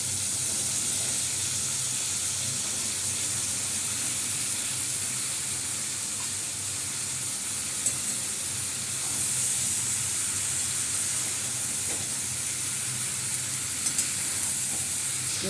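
Vegetables for a curry sizzle steadily in hot oil, a soft even hiss that holds without pause and with no talking.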